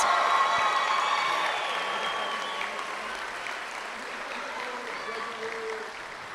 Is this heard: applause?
yes